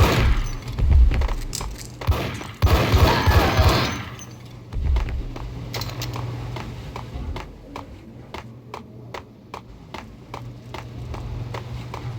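Gunfire in the video game Max Payne, heavy booming shots and crunching impacts up front, then a long run of sharp, evenly spaced rapid shots at moderate volume.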